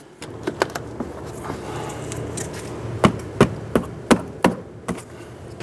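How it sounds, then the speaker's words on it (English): A steady background hum, then a run of sharp, close hammer taps driving push pins into a front inner fender liner on a 1994-2004 Ford Mustang, about six in quick succession, with a few lighter knocks earlier. "get a few taps with your hammer, pop those on in"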